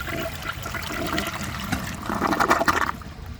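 A 1937 Standard Madbrook toilet, its bowl holding rocks, flushes close by with a loud gushing rush of water that swells and then tapers off.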